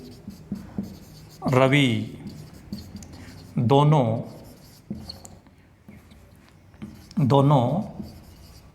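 Marker or chalk scratches across a board during a maths lesson on real numbers, short rubbing strokes heard in gaps and faintly under a teacher's steady Hindi speech.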